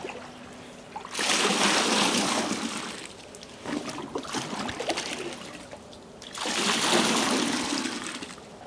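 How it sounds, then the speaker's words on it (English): Water pours into a bucket in two loud bursts of splashing and gurgling, separated by a softer stretch of trickling, all heard close by with no voices. "I just transfer a bit of water into a bucket."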